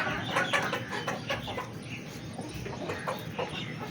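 Hens and chickens on a poultry farm cluck repeatedly in a steady, overlapping chorus, moderately close, with a weak older hen and young chicks among them and no talking.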